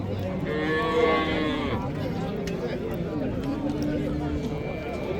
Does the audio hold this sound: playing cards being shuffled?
no